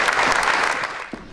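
An audience at an apprentice awards ceremony in Aveyron, 2014, claps in a dense, steady burst of applause that thins slightly toward the end.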